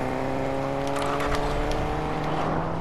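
A video-game car drives with a steady, sustained engine drone, its tone held fairly constant and close throughout, with faint brief tire or surface noise partway through and no talking.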